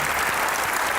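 A television studio audience bursts into brief, loud, dense applause to welcome a guest on an interview show.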